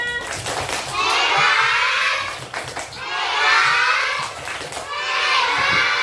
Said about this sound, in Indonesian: Tepuk hebat untuk Naya.